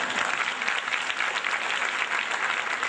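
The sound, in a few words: audience applause, clapping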